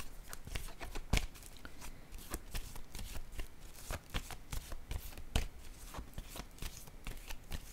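Tarot cards being shuffled by hand at close range, a continuous papery riffling with soft flicks and a couple of sharper snaps, quiet and steady without any voices.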